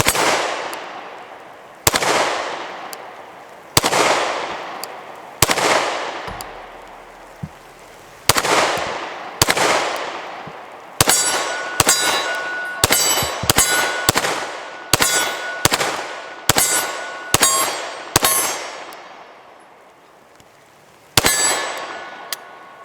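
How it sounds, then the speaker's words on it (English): PSA Dagger pistol shots ringing off a steel plate rack, loud sharp reports each followed by a metallic clang, fired singly at first, then in a quicker irregular string, with one final shot after a pause. "Let's shoot our plate rack here."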